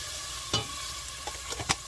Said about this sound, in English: I am adding the minced garlic, just a little bit,